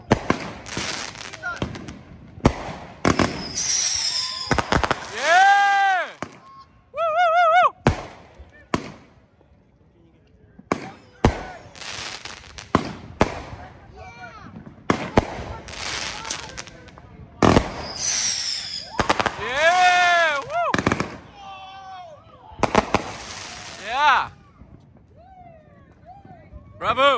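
Massive July 4th Independence Day fireworks in America, repeated loud booms and crackling bursts with whistling rockets, while people talk and cheer throughout.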